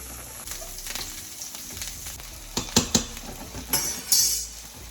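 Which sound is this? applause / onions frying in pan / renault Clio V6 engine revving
onions frying in pan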